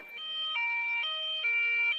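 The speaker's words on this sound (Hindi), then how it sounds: "एम्बुलेंस लाडो को लेकर अस्पताल की तरफ निकल पड़ती है।" A cartoon ambulance siren wails with a two-tone pattern, its pitch switching back and forth about every half second, clear and alone.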